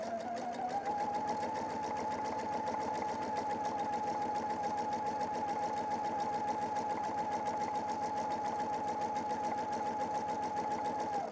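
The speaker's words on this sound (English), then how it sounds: "So I'm going to stitch around so that I come back up to our join again" A PFAFF sewing machine stitches pintucks in the round at a steady, fast, even rhythm for the full stretch, running alone and fairly close.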